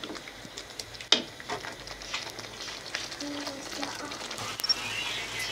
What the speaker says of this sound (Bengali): এখন আমি সব কিছু ভালো করে কষিয়ে নেব